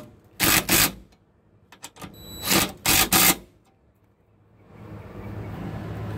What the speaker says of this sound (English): get your number 12 socket, and bolt it up with your ratchet